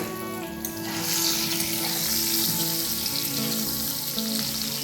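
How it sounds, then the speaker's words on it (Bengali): Pointed gourd (potol) fries in oil in a pan, a continuous close sizzle that swells after the first second and holds steady over a faint humming tone. "এইভাবে পটলটাকে একটু ঢাকা দিয়ে দিয়ে আমি ভেজে নেব।"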